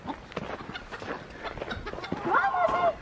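Backyard chickens cluck steadily at close range, with a few louder rising squawks near the end, under a person speaking to the flock outdoors.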